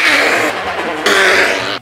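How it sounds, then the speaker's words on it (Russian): A man forcefully blows his nose into a handkerchief in two loud, close, wet bursts separated by a brief pause, with no talking. "Ой, блядь, мозги высморкал нахер."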